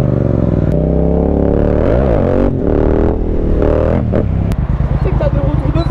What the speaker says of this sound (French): Tu sais que t'as des retours de flamme.